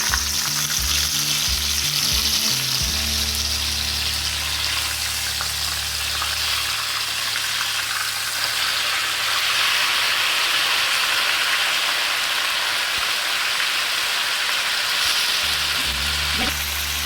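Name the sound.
whole chicken frying in a pan on full flame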